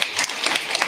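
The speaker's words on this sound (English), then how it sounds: "Yeah, you guys can clap." Audience applause at a live performance evening, a short burst of steady, dense clapping filling the whole moment at moderate loudness.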